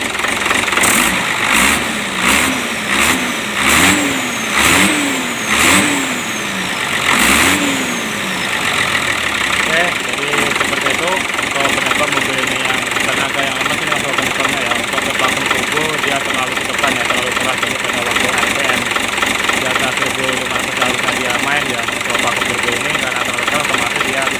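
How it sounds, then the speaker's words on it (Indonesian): A diesel car engine with a freshly retuned injection pump is started and revved, with several sharp rising revs near the start, then settling into a loud, steady, knocking idle. "Oke, ini kita hidupi ya untuk mobilnya seperti itu,"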